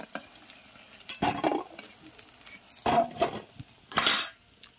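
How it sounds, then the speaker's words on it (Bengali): Chicken pakoda is refried in hot oil. A close sizzle runs under several bright bursts of crackling, along with scraping stirs and clinks of a utensil against the pan, and no one speaks. "আগে যেটা ভেজে রেখেছিলাম সেটাকে এবার আর একবার ভেজে নেব"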